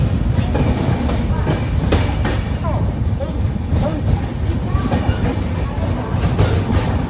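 Steady rumble of the Tirumala Express passenger train rolling on rails past Pithapuram railway station, with rhythmic clickety-clack of wheels, loud and close throughout.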